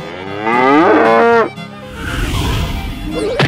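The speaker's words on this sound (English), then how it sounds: "cow" A cow lets out a single loud, close moo that swells and then breaks off, followed by rougher low rustling noise.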